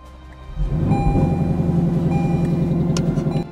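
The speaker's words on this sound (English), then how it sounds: "One of the things that's really weird about this car are the engine sounds." A 2024 Lexus LC500's engine starts with a sudden bark, then settles into a loud, steady, deep-throated idle rumble heard up close with no talk.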